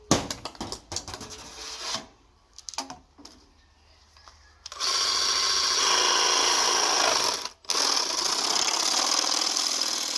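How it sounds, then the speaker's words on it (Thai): Power tool cutting through a PVC drain pipe during sewer pipe installation: a few short bursts and pauses, then a loud sustained cutting whine for several seconds with a brief break near the end. "เพราะว่าเราเทเสร็จแล้วเนี่ยเราสามารถตัดแต่งได้นะครับผมก็นี่พี่โลงตัดเลยครับ"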